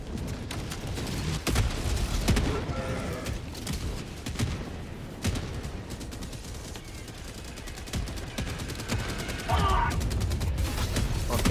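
A deployed sentry gun in Helldivers 2 fires repeated bursts through a chaotic firefight. The rapid shots, thuds and mechanical clatter come loud and close, with players' voices faintly underneath.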